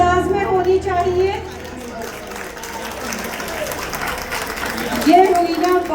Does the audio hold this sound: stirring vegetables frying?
no